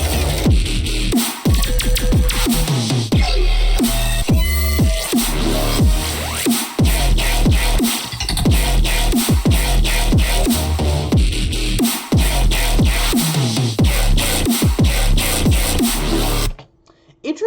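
Heavy synthesized electronic bass from the Invasion drop pounds loudly in a fast, dense rhythm of repeated hits, cutting off abruptly just before the end.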